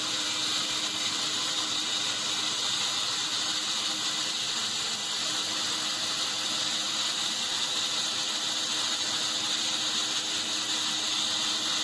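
Steady, loud mechanical whirring with a fast rapid clatter from a sawmill blade running at full speed through wood, continuous with no voices.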